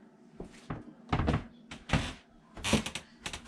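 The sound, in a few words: floor creaking at a bedroom door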